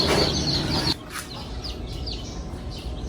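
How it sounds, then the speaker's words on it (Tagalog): Newly hatched chicks peep in a rapid run of thin, high chirps, following a brief burst of rushing noise at the start. "Andito na yung mga sisiw natin."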